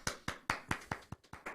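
A small round of applause, a few quick sharp claps in an even rhythm, close and fairly faint, with no voices.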